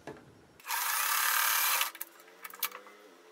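A sewing machine runs a short, steady burst of stitching on quilt block fabric pieces, loud and close, then stops, followed by a few faint clicks and handling noises.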